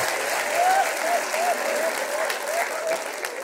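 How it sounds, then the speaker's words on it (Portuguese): Applause from a small audience, a steady clatter of clapping running for a few seconds with a faint voice or tune drifting above it. "Palmas para as mortes."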